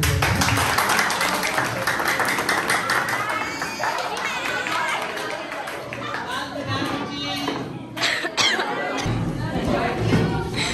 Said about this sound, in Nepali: उहाँको लागि ताली